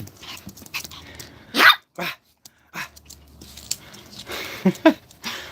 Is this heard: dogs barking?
yes